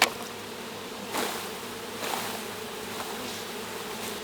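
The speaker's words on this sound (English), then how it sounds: "So as you can see, we have a good amount of bees right here." Dense, steady buzzing of honey bees during a hive split, with a swarm-like drone filling the clip and slight swells in loudness, no voices present.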